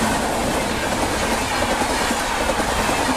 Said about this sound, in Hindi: तभी स्टेशन पर ट्रेन आकर रुकी और कुछ देर में रवाना हो गई।